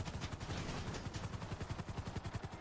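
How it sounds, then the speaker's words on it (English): A fast helicopter in GTA V, its rotor chopping out a rapid, even beat with a loud, close engine roar throughout. "Yeah, this helicopter is very quick"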